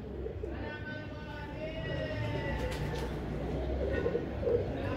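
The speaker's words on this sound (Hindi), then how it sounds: "ये उसके कबूतर हैं" Pigeons coo softly in a steady murmur on a rooftop, with voices talking over them and faint outdoor background noise.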